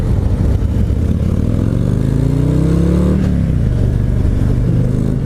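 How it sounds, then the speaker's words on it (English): A 2022 Harley-Davidson CVO Road Glide motorcycle being ridden, its low V-twin engine rumbling steadily and loud up close, rising in pitch as it accelerates, then easing off and climbing again. "I feel like I'm riding a very expensive motorcycle"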